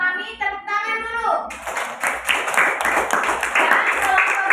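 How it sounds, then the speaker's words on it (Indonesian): Children's voices speak briefly, then a classroom bursts into rhythmic group clapping for group 2, loud and close, with patterned beats continuing to the end. "Tepuk tangan dulu"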